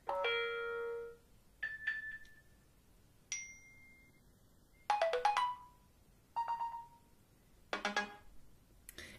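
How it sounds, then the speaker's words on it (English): A series of bright electronic bell-like alert tones from an iPhone 5 running iOS 7, several short chimes and ringing bursts spaced apart, clear and close against near silence. "You can hear a lot of like that bell sound."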